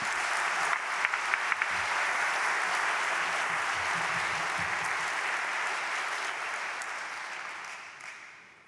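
An audience at an academic induction ceremony in France applauds a speaker, a full, even roll of clapping that stays strong before gradually tapering off toward the end.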